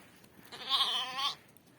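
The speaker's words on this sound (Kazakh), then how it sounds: "жетім қозы." An orphaned lamb, abandoned by its ewe and now hand-fed milk, gives one clear bleat of about a second at close range, rising and then fading, against quiet surroundings.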